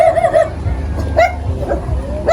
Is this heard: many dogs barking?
yes